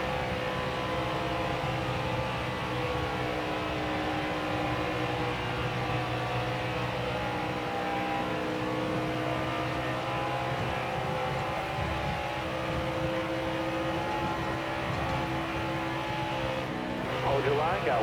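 Engine of a NASCAR Heat 4 race truck running flat out around Atlanta in a Gander Outdoors Truck Series race, a sustained loud roar that keeps going throughout, with a brief shift in tone near the end.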